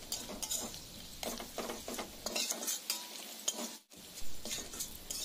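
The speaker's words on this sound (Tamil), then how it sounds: "நல்லா மிக்ஸ் பண்ணிகிட்டே இருங்க." Mushroom gravy masala with coriander powder, chilli powder and garam masala stirred in a pan over the flame, a series of scraping, clinking spatula strokes over a low sizzle, with a brief pause near the end.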